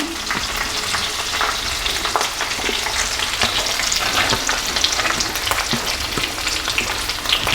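Onions sizzling steadily in hot oil for a Chintamani chicken masala gravy, a dense continuous frying hiss with small scattered pops and occasional stirring clicks, close and fairly loud throughout.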